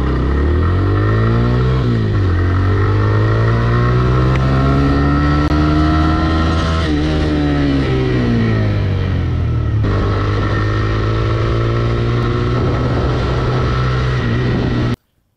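A TVS Raider 125cc motorcycle engine revs and accelerates steadily close by, its pitch rising and falling through several throttle pulls over about fifteen seconds, loud and alone with no talk.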